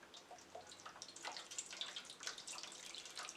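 Hot water poured into a deep dish holding a foil-wrapped Trinidad pastelle, set up for steaming: a quiet, steady splashing trickle with small bright spatters, close by and alone.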